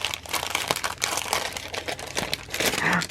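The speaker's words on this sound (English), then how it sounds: "Sorry for all the crinkling." Loud, close crinkling of packaging while mail is unwrapped, continuous rustling and crackling of plastic wrap and foil-like material for several seconds.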